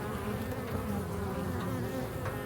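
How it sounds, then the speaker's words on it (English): A bee buzzes steadily in flight, a continuous droning hum that stays fairly loud and even throughout, with no voices. "The bee picked up Thumbelina and flew down from the tree."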